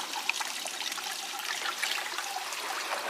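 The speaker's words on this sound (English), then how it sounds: "Put a little more water in it." Water trickles and splashes steadily into a gold pan during prospecting, a continuous close liquid wash with no talk.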